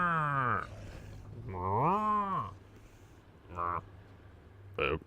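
Cow moos imitated by a human voice: a long drawn-out moo, a second rising and falling moo, then two shorter bursts, all close and clear over a faint steady background hum.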